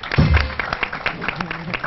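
Brief applause from a studio audience on a television talk show, a burst of clapping over about two seconds with a voice briefly mixed in at the start.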